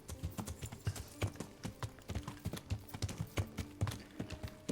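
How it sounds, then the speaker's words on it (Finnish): Horse hooves clip-clop in a steady, rhythmic trot in the Kingdom Come: Deliverance video game, close and moderately loud, with faint game ambience beneath. "Pelottava hevonen."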